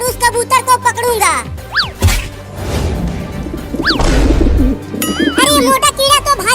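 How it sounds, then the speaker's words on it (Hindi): A cartoon pigeon coos in short bursts amid bright sweeping music and comic crash and swoosh effects, loud and busy throughout. "वहाँ एक कबूतर नीचे घूम रहा है"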